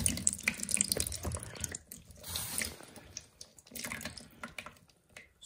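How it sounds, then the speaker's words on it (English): Water pours and splashes steadily from a disconnected central heating radiator into a jug, with a running, tap-like trickle that swells and eases over several seconds, close by and without talk. "you may get a bit of water coming out of here."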